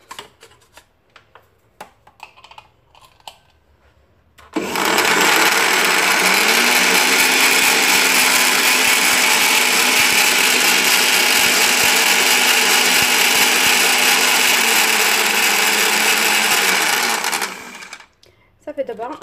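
A blender mixing whole wheat flour batter whirs loudly and continuously for about thirteen seconds, starting abruptly after a quiet stretch and cutting off near the end.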